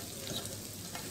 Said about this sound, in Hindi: इसमें ऑयल डाल लिया है थोड़ा सा, और जो प्याज हमने काटे थे उसको हम इसमें डाल देंगे।